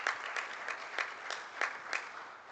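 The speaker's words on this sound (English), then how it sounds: "Give them a round of applause." Light audience applause at a junior collegiate livestock judging contest awards ceremony, a thin patter of scattered claps from a modest crowd, fairly distant and brief.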